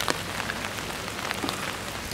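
Heavy rain falls steadily and close, a dense hiss with scattered drop patters on surfaces and no voices.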